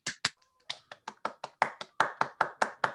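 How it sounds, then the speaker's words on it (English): Quick scattered applause from a handful of people on a video call, a dozen or so sharp close claps in an uneven rhythm over three seconds with no talking. "just give a quick round of applause to our panelists"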